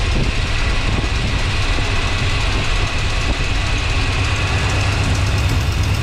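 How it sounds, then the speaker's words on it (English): A 1982 Ford F-150 pickup's 302 V8 engine idles loudly and steadily nearby, a constant low rumble with no breaks. "Sounds like the engine is idling down now."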